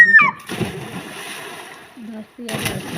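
Water splashing as people bathe in a village pond after fishing, a short burst of close splashes with voices talking over it.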